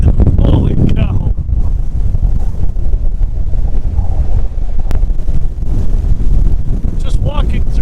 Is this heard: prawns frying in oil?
no